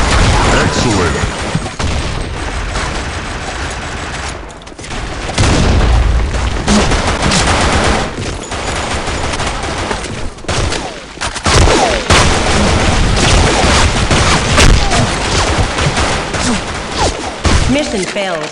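Loud, dense gunfire with booming grenade explosions in the online shooter BlackShot, continuous rattling shots and blasts throughout, with game voice callouts over the action.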